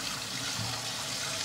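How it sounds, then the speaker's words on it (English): Warm water runs steadily from a tap, a continuous broadband rush with no break and no talk over it. "You're gonna hear water in the background"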